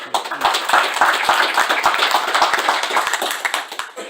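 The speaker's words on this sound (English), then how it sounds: "let's give her a round of applause" An audience gives a round of applause as a few nearby pairs of hands clap distinctly, each clap clearly separate in a quick uneven rhythm.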